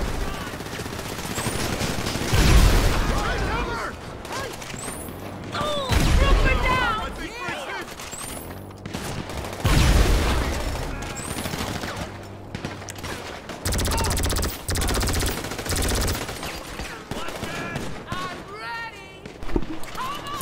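Gunfight in GTA 5 Online, bursts of rapid gunfire and booming shots coming in clusters, with frantic talking over and between the bursts.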